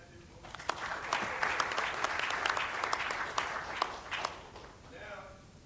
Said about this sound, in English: Gabe McCoy, round of applause for that,